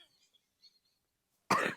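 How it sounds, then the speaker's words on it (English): A woman still recovering from a cold gives a single short, harsh cough after near silence with faint background noise. "I'm going to make her cough because she's not quite over her cold yet."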